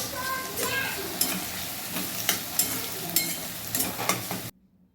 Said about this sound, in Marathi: मिठामुळे दोन्ही म्हणजे टोमॅटो आणि कांदा लवकर परतायला जे आहे ती सुरुवात होते